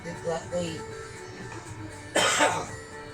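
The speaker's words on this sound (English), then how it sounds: "I need to sort that cough out" A single harsh cough rings out near the end, close to the mic, following quiet speech.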